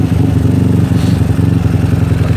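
The 150cc engine of an SSR Interceptor 150 (ZNEN ZN150T-9) scooter is revved up close with the throttle, giving a loud, steady, pulsing drone with a slight rise partway through.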